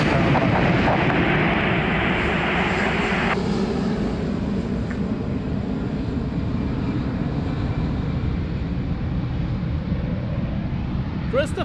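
An airliner takes off at Lisbon Airport, its engines a steady, loud broadband roar throughout, with a brighter hiss easing off partway through.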